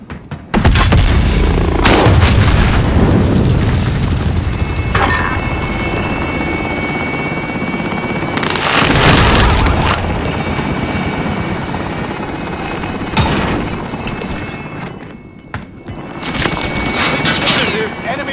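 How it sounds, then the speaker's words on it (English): A helicopter in the Call of Duty Warzone Pacific video game on Rebirth Island, its loud continuous rotor roar running throughout, broken by several heavy booms and bursts of gunfire, with game voices speaking over it. "Helo is in position."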